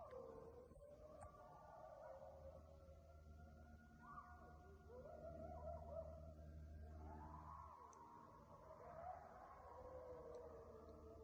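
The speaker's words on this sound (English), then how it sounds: "We're hearing all these coyotes starting to howl," Coyotes howling at night in the woods, a chorus of wavering, rising and falling howls carrying from a distance over a steady low background rumble.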